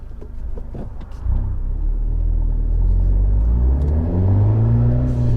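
A Fiat 124 Spider engine with a suspected camshaft problem revs in neutral close by, idling briefly before the revs rise into a loud, sustained rumble that climbs and holds.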